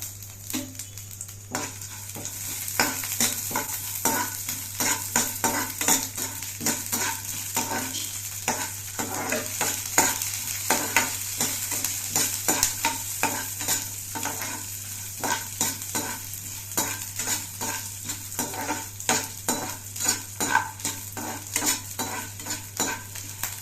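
Urad dal and garlic fry in a pan for a sundakai thuvayal, with a steady sizzle and repeated rhythmic scraping of a spoon stirring the contents close by, continuing throughout without talk.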